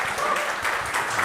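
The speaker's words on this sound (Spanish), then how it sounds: "Un aplauso." Brief burst of audience applause at a marketing talk on CRO, many hands clapping at once in a steady wash that stays at an even, moderately loud level throughout.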